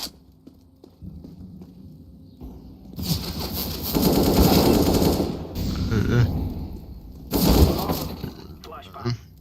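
Video game gunfire rattles in rapid bursts, with loud blasts and crashes from grenades and flashbangs, coming in uneven waves between quieter stretches.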